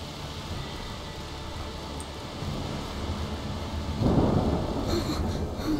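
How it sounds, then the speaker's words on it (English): Thunderstorm in the video game A Plague Tale: Requiem, with steady rain and wind hiss throughout and a louder rumbling thunder swell near the end. "It's just a storm."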